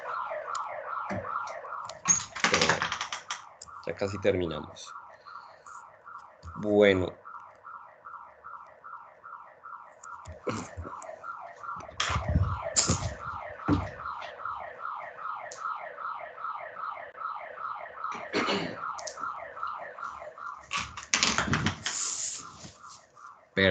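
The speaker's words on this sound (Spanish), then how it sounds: "tengo un vecino que activa su alarma" A neighbor's car alarm blares nearby in a steady, repeating electronic cycle that runs nearly throughout, with louder bursts and clatter breaking in at intervals, while someone speaks briefly over it.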